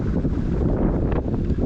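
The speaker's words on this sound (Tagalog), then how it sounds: "Napakalakas ng hangin." Strong wind buffets the microphone in one steady roar beside slippery, mossy water, with a brief stronger gust near the end.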